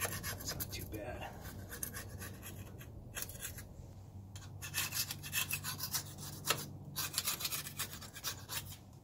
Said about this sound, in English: Scrape some of this gasket material off of here.